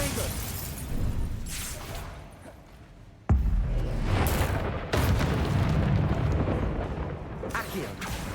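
Confringo fire-spell explosions during Hogwarts Legacy combat, with a sudden loud blast followed by another heavy boom and rumbling debris against a noisy battle background.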